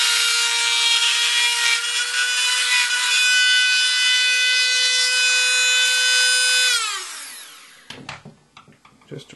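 A power tool ports aluminum for a BT4 ASA and throws off shavings, giving a loud, steady high-pitched grinding whine that holds for several seconds, then winds down, followed by a few clattering knocks.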